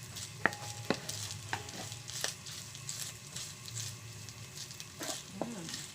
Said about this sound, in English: So let's saute this one.